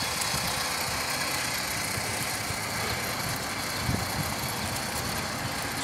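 An Axial SCX10 RC rock crawler being driven outdoors on a hillside, its small electric motor giving a steady, continuous whirring drone with little variation, close and alone.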